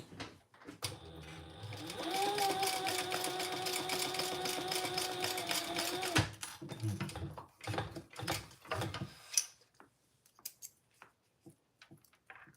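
A sewing machine stitches tabs onto the ends of fabric, running steadily for several seconds with a whirring mechanical drone before stopping, followed by scattered clicks and handling noises.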